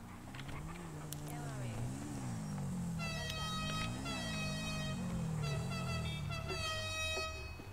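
Taxi horns honk repeatedly in a zombie roleplay video game, loud sustained blasts in the second half layered over a wavering engine drone, with voices talking throughout.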